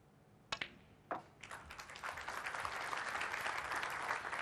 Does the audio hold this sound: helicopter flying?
no